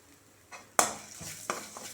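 Quiet scraping and clinking of a spoon stirring ingredients in oil in a pan for rasam, a few sharp knocks against the metal over a soft sizzle.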